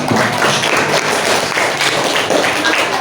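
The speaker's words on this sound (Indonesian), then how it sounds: "Beri tepuk tangan." A class claps together after a closing greeting, with loud, dense, continuous applause filling the room for a few seconds.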